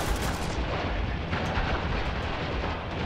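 Dense, sustained gunfire and explosions from the co-op shooter Spec Ops: The Line, a loud continuous barrage filling the whole stretch with heavy rumbling blasts.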